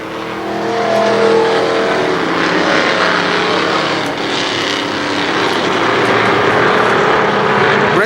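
Race cars roar around KilKare Speedway during the 1995 Labor Day Championships, a loud, unbroken wall of engine noise swelling and fading slightly as the pack passes.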